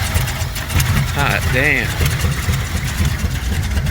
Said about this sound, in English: She's got a slight exhaust leak there, no big deal.